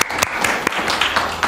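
A church congregation at a youth worship service applauds a newly married couple, a brief burst of dense clapping that is loud and close throughout.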